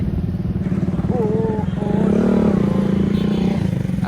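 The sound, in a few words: noisy motorcycle engine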